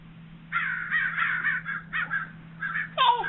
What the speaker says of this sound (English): the fucking birds are in the room